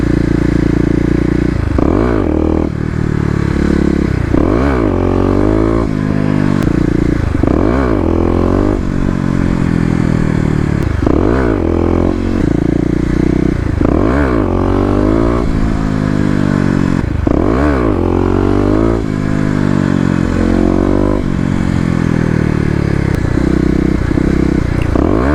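A Kawasaki KLX250 dual-sport motorcycle with a 13-tooth sprocket, ridden in wet weather during wheelie practice. The engine revs up and drops back again and again, loud and close, with rising and falling pitch and some clatter and scraping.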